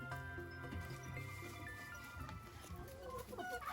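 A hen clucks while settling on a nest of eggs, drawing them under herself in a farm henhouse, with steady low clucking and tonal calls running throughout at close range.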